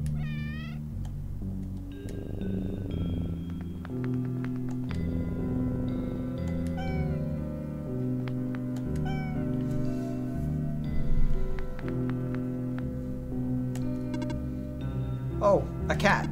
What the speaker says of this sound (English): Can you hear them purring?